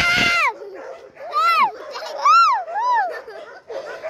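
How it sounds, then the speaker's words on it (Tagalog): Several dogs bark and yelp in rapid overlapping bursts, high-pitched and whining, with a person's voice among them. "Oy, daming asong sumatahol!"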